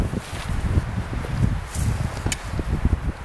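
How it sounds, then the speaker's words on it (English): Gusty wind blows across a grassy outdoor shooting range, a steady rough rumble of buffeting with soft rustling and uneven swells, and no talk. "You can see the grass moving quite a bit. I'm going to try to shoot when there's lulls in the wind."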